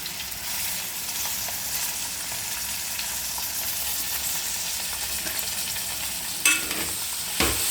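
Coriander and mint frying in a pan for vegetable pulao, a steady close sizzle with a stirring scrape and a couple of sharp clinks near the end; no one talks.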